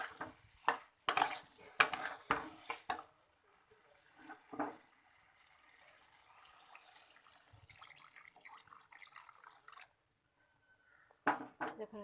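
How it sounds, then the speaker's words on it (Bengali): Water is poured into a pot of chana dal in a home kitchen, heard as clattering utensils and a couple of short splashy pours followed by a softer running trickle, all fairly quiet. "এবার আমি জল দিয়ে দেবো।"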